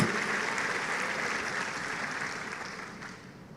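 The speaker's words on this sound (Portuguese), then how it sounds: "Só quem entendeu aplauda o nome do Senhor." A church conference congregation applauds steadily during a sermon, a dense wash of clapping that starts strong and slowly tapers toward the end, with no talk over it.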